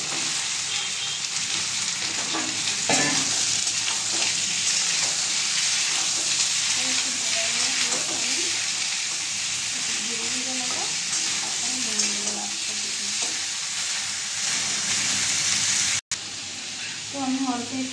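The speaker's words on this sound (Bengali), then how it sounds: "তো আমি সাদা জিরে একটু ফোটন দিয়ে দেবো আর একটা শুকনো ফোটন দিয়ে দেবো, দিয়ে আমি সবজিগুলো একে একে দিয়ে দেবো।" Vegetables fry in oil tempered with cumin and dried chili, giving a loud, continuous hissing sizzle with occasional stirring and faint voice traces at times.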